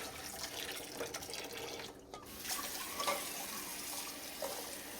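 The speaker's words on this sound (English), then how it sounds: "I'm gonna drain the water out first." Hot water from a pot of boiled eggs is poured off into a sink, a steady splashing gush with a brief pause and a few drips, fairly close and unaccompanied by talk.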